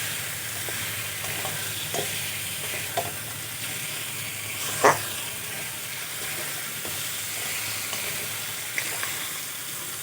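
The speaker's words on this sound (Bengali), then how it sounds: "মাছের মাথাগুলো মশলার সাথে আরও কিছুক্ষণ আমি ভালো করে কষিয়ে নেব।" Fried fish heads sizzling in spice masala as they are stirred, with steady dense frying hiss, occasional soft spatula taps, and one sharper scrape partway through.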